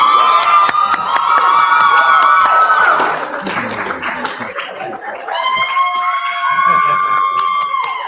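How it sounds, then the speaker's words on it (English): A crowd cheers wildly with shouts, whoops and applause as a high school football offensive tackle commits to LSU, loud and sustained with a brief dip midway before surging again. "And the crowd goes wild."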